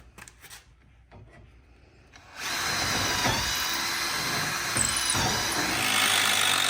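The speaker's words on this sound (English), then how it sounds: "I'll drill some more pilot holes." A power drill bores pilot holes into the wood of a shed rail. It starts abruptly after a quiet moment and then whirs loud and steady up close.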